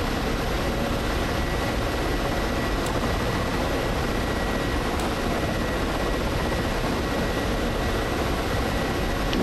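A Ka-50 Black Shark coaxial-rotor helicopter flying over Las Vegas in the DCS World combat flight simulator, a loud, continuous, even engine and rotor drone with no talking.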